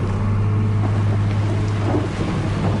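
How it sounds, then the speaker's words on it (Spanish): Heavy nighttime rain builds into a full storm, a loud, dense, unbroken roar with a deep rumbling low end that stays constant throughout. "se encontró con una lluvia que a poco andar se convirtió prácticamente en un verdadero temporal"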